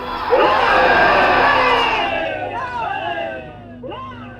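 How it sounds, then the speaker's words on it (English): A large American crowd lets out a rousing cheer at a flag-raising rally, with loud whoops and shouts swelling together, then tapering into scattered yells and whistles. "Let's give a rousing cheer that we heard in Berlin and Tokyo."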